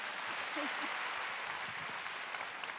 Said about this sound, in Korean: 박수 쳐줘요.